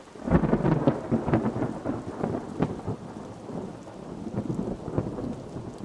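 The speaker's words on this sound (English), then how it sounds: "That thunder is definitely too loud. It's peaking." Thunder rumbles loudly and repeatedly in the cozy video game Trash Goblin, rolling booms layered over steady pattering rain that continues throughout, heavy and slightly distorted at its peaks.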